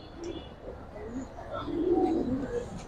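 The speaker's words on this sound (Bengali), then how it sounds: "ছাড়াছাড়ির জন্য বেস্ট একটা কবুতর" Silver military pigeons coo in low, rolling phrases at close range, several overlapping calls swelling toward the end over a steady background hum.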